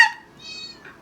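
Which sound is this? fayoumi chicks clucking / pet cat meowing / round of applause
pet cat meowing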